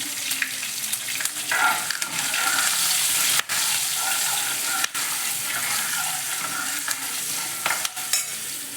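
Curry leaves, green chillies and turmeric sizzle in hot oil with a bright continuous crackle, broken by stirring scrapes and a couple of sharp clicks, and no talking.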